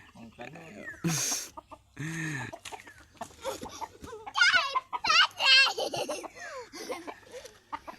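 A rooster clucks and squawks in short bursts amid excited voices and laughter from people nearby.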